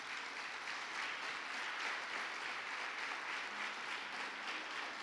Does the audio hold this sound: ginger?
no